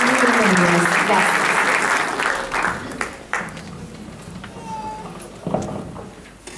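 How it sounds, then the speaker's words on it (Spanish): Loud, sustained applause from a theater audience welcoming the evening's speakers. A voice runs over the opening seconds, then the clapping thins out and fades toward the end. "Fuerte el aplauso"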